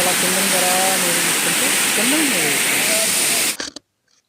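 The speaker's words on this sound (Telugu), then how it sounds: "చూసారు కదా ఎంత బాగుందండి వాటర్ ఫాల్" A hidden waterfall in Araku roars as a dense, steady rush of falling water under people talking, cutting off abruptly near the end into silence.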